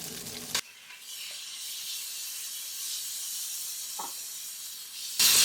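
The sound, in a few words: frying chicken with ginger garlic paste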